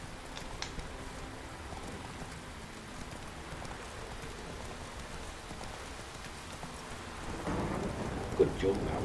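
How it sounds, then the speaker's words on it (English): Rain and thunder in the video game Witcher 3: a steady, faint hiss of falling rain with low rumbling underneath, growing a little louder near the end, with no voices. "Nice thunderstorm. Can't beat a good thunderstorm."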